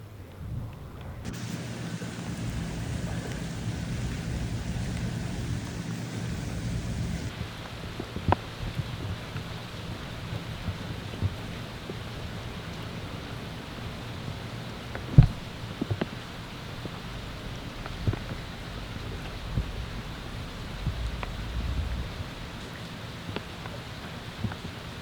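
Continuous rain hisses throughout a night thunderstorm, broken by occasional crackles and a sharper crack or two of distant lightning; no voices.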